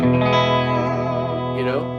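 A sustained chord on a Gretsch Electromatic G5420T electric guitar rings out with a bright, twangy tone and a short pitch-bending flourish near the end.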